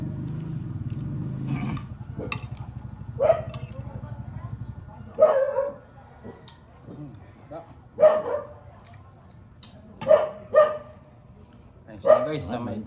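A dog barks in short, separate yips and barks spread over several seconds, moderately close, with a low murmur of background sound between them.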